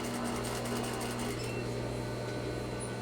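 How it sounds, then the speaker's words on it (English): A sewing machine runs steadily while stitching fabric near an inward corner of a garment facing, a continuous close mechanical whir with a constant hum and no pauses. "I'm going to sew right up into the corner, and then I'm going to stop."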